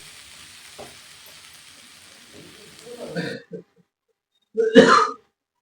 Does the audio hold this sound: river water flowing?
no